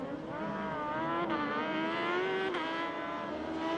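Sidecar racing outfits accelerating off the start at the Sachenring during a FIM Sidecar World Championship race, a dense rising engine roar from the packed field, heard somewhat distant and continuous.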